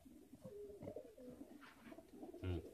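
High flyer pigeons kept in a cage give soft, low cooing calls, faint and close, with a louder coo near the end.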